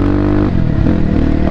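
A BSE Z7 four-stroke motorcycle engine drones close and loud, a steady running note with a slight shift in pitch partway through the short stretch.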